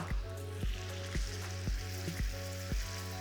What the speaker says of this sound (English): So I just want to let that bubble away and reduce by about 1/3 this time.